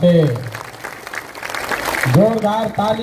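A crowd clapping at a Jan Suraaj party political gathering in Bihar, a brief wash of applause sandwiched between someone speaking loudly into a microphone before and after.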